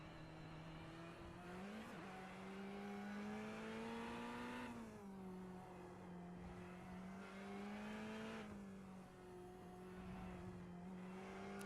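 Ferrari race car on a winding track, its engine revving high and climbing through gears in sweeping rises and drops, heard steadily from on board with no talk.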